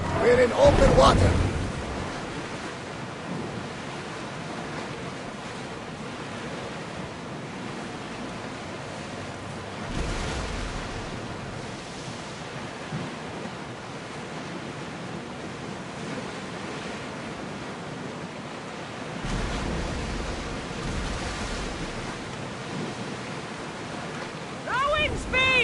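Ocean waves wash steadily in open water while a ship sails in Assassin's Creed Odyssey on PS5, a continuous rushing surf with wind that swells louder at intervals.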